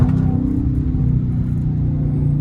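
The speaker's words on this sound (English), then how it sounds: "You can rev shift like that." A Dodge Charger R/T V8 engine rumbles and revs through a rev-matched downshift, a loud, close, low growl that swells briefly and holds steady throughout, with no voices.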